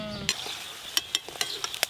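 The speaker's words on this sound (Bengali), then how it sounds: "লাল করে ভাজা হচ্ছে খাজা" Khaja pastries deep-frying in hot oil give a soft steady sizzle, broken by several sharp metallic clinks and scrapes of a stirring utensil against the pan, close and fairly quiet with no talking.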